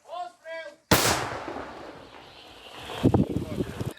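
A short burst of talk, then a single loud, sharp artillery blast that booms and rolls away, with wind noise and more voices near the end.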